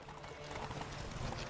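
Horse hooves clip-clopping at a gallop during a race in the video game The Witcher 3, a steady rapid drumming of hoofbeats close by and fairly loud, with no talk over it.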